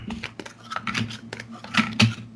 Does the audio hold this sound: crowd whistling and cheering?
no